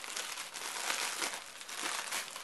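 Plastic packaging crinkles and rustles close up in quick, uneven bursts, with no voices.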